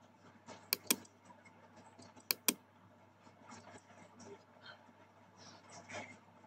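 Typing on a computer keyboard while entering a search in Windows: two quick pairs of sharp, close keystrokes, then softer scattered taps under a faint background hum.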